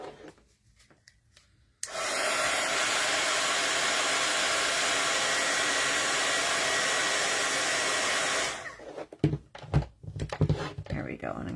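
A hair dryer blows steadily on wet watercolor paint for several seconds, a loud continuous whoosh that starts abruptly and cuts off, followed by light taps and handling noises.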